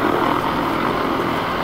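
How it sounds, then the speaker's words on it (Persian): A helicopter flies overhead, making a loud, steady rumbling roar of rotor and engine noise that fills the whole moment with no voices. "هلیکوپتره، آیا دیده میشه؟"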